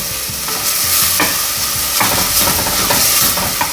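Onions sautéing in a pan over high heat, a dense steady sizzle broken by the scrape and clatter of stirring, loud and close with no voices.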